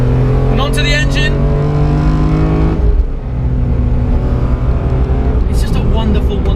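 A naturally aspirated BMW M3 CSL engine revs loudly with sustained harmonic drone and rising pitch, under a speaking voice, with a brief dip near the middle before the engine note returns.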